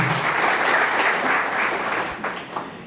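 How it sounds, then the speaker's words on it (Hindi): Loud, sustained applause from a seminar audience, many people clapping together in a steady roar that thins slightly toward the end with a few distinct claps standing out. "जोरदार तालियां इनके लिए।"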